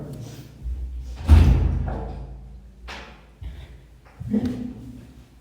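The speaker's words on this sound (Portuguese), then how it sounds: "ele fechou a porta ainda" A door being closed indoors, with a heavy thud followed by a few softer knocks and bumps spread across several seconds amid room noise.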